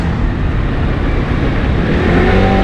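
A 50cc Arora Cappucino scooter engine labors uphill, a loud, close, continuous buzzing drone that swells slightly toward the end, with no talking.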